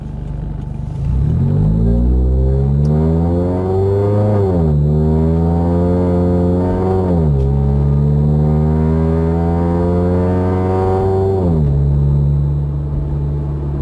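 A loud Edelbrock-supercharged FR-S engine revs up and eases off several times, its deep throaty exhaust drone rising in pitch with each pull.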